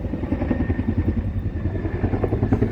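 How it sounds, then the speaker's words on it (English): A military helicopter flies overhead near an air base, its rotor beating in a fast, steady pulse, loud and close, with no talk. "It's a military helicopter going over because we have an air base here."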